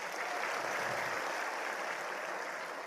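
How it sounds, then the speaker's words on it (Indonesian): Audience applause for university students at a community talk in Indonesia, a moderate, steady wash of clapping from a crowd lasting under three seconds. "tepuk tangan dong untuk mahasiswa"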